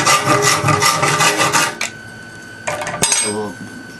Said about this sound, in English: keep filing away until you get right up to the line